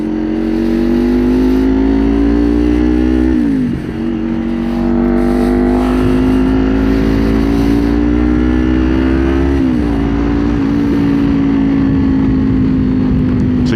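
A 2024 Kawasaki Ninja 500 motorcycle idles close by, a loud, steady, even engine hum with a couple of brief dips and small throttle blips, no voices.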